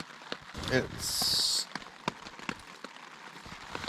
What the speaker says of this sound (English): it's been raining pretty much all night.